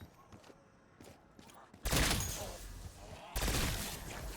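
Gunfire in a zombies video game on the Astra Malorum map, round 40 solo: light rapid shots at first, then two loud, dense bursts of sustained fire that wash over everything, fairly close.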